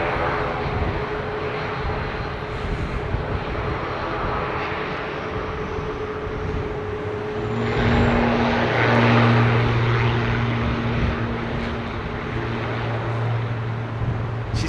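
An ATR turboprop airliner takes off at London Heathrow Airport, its propellers and engines making a loud continuous roar that swells and rises in pitch partway through, with no voices.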